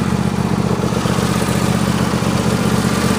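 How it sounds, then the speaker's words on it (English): John Deere e160 lawn tractor engine running at a steady idle, a loud, close, evenly pulsing rumble throughout with no talking. "Engine's running great."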